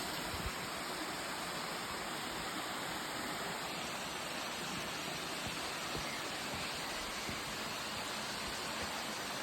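Podkova waterfall in a valley near Kardzhali, Bulgaria, a steady, dense rush of falling water filling the air continuously with no pauses, moderately distant and even in level.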